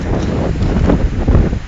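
Strong outdoor wind blasting straight into the microphone, producing a loud, buffeting rumble that surges and swells for the whole moment with no voices.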